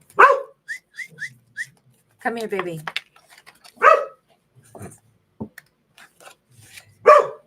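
A dog in the room gives several sharp, close barks spaced through the scene, mixed with whistling, rustling and someone talking between them.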